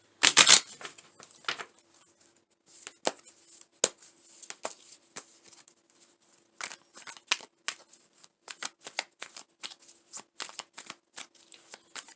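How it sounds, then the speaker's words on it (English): Playing cards being shuffled up close, crisp papery riffles and flicks in an irregular series of short bursts with brief pauses between. "Let me shuffle again."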